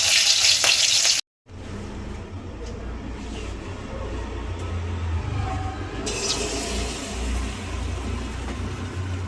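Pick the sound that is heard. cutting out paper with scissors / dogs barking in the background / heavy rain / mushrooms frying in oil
mushrooms frying in oil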